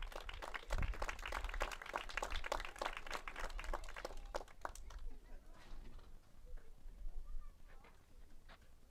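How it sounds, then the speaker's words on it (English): A round of applause for three senior players at a Grayson County Lady Cougar softball game, dense clapping for about five seconds that thins into scattered claps and quiet ambience. "Let's have one more round of applause for our 3 seniors."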